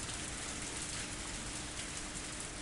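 Torrential rain pours steadily in the visual novel Higurashi When They Cry Hou, a dense, even hiss of downpour that holds unbroken throughout at moderate loudness with no voices.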